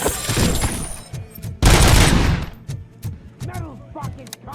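Loud gunfire in the Robocop: Rogue City video game, with bursts of shots followed by a long sustained blast and scattered sharp cracks, plus ringing metallic tones.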